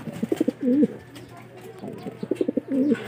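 Two bursts of pigeon cooing nearby, each a quick series of low coos ending in a longer rolling coo, separated by a brief pause.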